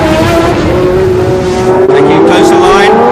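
Formula One race cars at the 1976 Long Beach Grand Prix, engines screaming at high revs as they accelerate out of a corner; a loud, steady rising engine tone with a commentator talking over it.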